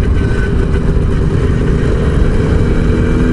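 Jawa 350 TS motorcycle engine while riding, a steady, loud, close drone with wind rush throughout and no pauses.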